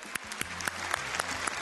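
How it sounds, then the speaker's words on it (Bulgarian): Steady studio audience applause on a Bulgarian television quiz show, a dense patter of clapping that holds evenly for the whole stretch with no speech over it. "Да посрещнем с аплодисменти действащия двукратен шампион Последният печели Виктория Георгиева!"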